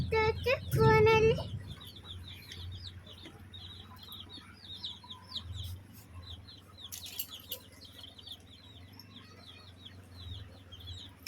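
Hens and their chicks in a yard near a drain cluck in a short, loud burst, then scattered chirps and softer clucks carry on over a low rumble of running water.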